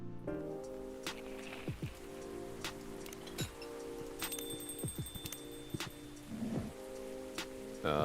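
Rain falls in the video game Coffee Talk, a soft steady hiss of light rain at low level, broken by faint chimes and small tapping sounds.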